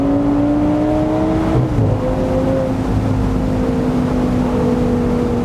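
A 2012 Audi R8 GT Spyder accelerates with a loud, steady engine drone close by, its pitch climbing and then briefly dipping at a shift before pulling on.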